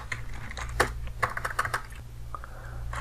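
Keys clack on a computer keyboard as a password is typed in Kali Linux, a quick uneven run of close, crisp taps with short pauses between them.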